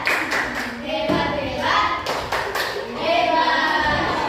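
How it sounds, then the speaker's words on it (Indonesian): Schoolchildren in a fifth-grade maths class do a rhythmic group clapping cheer for a presenting group, with bursts of claps in a patterned beat and children's voices mixed in across the room. "terima kasih tepuk hebat ya untuk kelompok 1"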